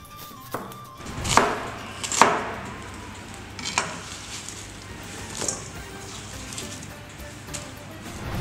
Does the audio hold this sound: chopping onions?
yes